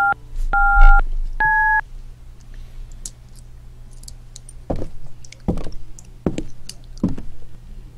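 Three short electronic keypad tones sound in quick succession as a phone number is dialed in the RPG Maker mystery game 'I Didn't Kill That Man', followed by a few soft clicks and knocks over a low steady hum.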